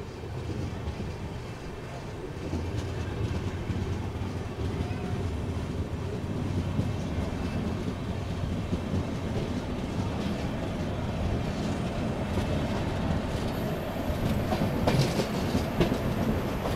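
The Satavahana SF Express, running from Vijayawada to Kacheguda, rumbles along steadily with a constant low roar and a faint clickety-clack of the wheels, heard from inside a non-AC chair car coach.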